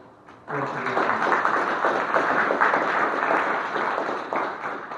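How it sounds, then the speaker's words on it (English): Conference keynote audience breaks into a round of applause after a brief moment of quiet, steady dense clapping from a large room holding evenly for several seconds, with faint murmuring underneath. "we really want to give them a nice round of applause"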